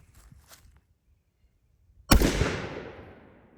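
A single sharp shotgun blast from a Mossberg SA20 firing Rocky Ridge TSS turkey load cracks out after quiet, close and loud, with a decaying boom trailing off.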